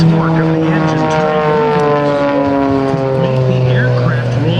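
A propeller aerobatic plane dives at the 2009 Blue Angels Homecoming Airshow, its engine a loud, sustained droning whine that bends slightly in pitch as it passes overhead.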